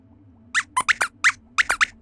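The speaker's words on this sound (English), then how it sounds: "Squeaks?" A cartoon mouse character gives a series of bright, high-pitched squeaks in quick bursts, about eight chirps in two clusters, clear and close over a faint low hum with no talk.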